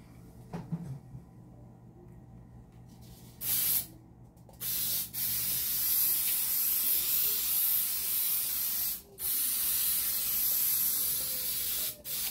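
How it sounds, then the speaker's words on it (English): Baking spray hisses from an aerosol can into a cake pan for a Dr Pepper cake, in several sustained loud bursts with short pauses between them and a few soft clunks at the start. "So I'm using the baking spray."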